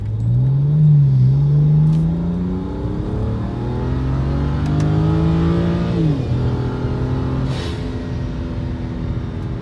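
A 2010 BMW 335i M Sport with the N54 engine pulls away from a stop under heavy throttle, heard from inside. The engine climbs loud and steady through rising revs, drops briefly at a shift, then keeps pulling.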